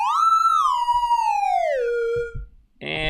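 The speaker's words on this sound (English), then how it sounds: "Triangle wave sounds like this." A triangle wave oscillator tone from Chrome Music Lab, a smooth pure-sounding electronic tone that glides slowly downward in pitch over about two seconds, followed by brief low clicks and the start of a brighter tone.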